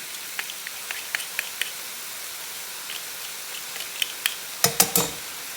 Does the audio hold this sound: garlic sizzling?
yes